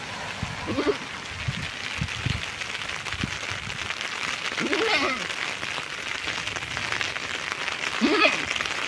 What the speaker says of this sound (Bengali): ভালো রকমই বৃষ্টি নামছে।